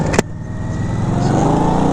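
A 2019 Indian Scout's 1133 cc liquid-cooled V-twin engine with performance intake and stage 1 exhaust rumbles with an even, pulsing throb, close by, after a brief sharp knock at the start.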